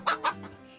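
Farm hens cluck twice in quick succession, close and clear, during egg collection with a short quiet tail afterward.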